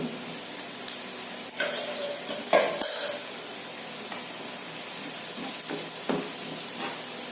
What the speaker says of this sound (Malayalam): നമുക്ക് ഇതിലോട്ട് ചതച്ച മുളകാണ് ഞാൻ ഇടുന്നത്.